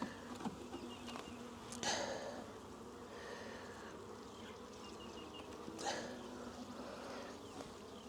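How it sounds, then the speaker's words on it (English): Honey bees buzz continuously during a package hive installation, a soft, steady insect drone with a few louder close passes as individual bees fly near. "now you'll see the rest of the bees start to fly out"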